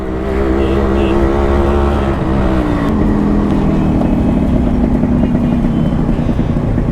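A Yamaha RX 100 motorcycle engine revs hard and continuously during a burnout, a loud, close, raspy two-stroke drone that holds a sustained high pitch for the full seven seconds.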